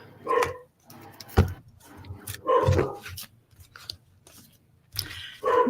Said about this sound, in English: As soon as you asked that, my dog started barking